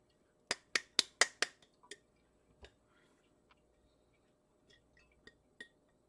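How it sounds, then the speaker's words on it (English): Dry soybeans poured into a measuring cup after straining, a quick burst of sharp clicks and rattles followed by a few scattered ticks, close up with no talking. "So now I'm going to pour the beans in there."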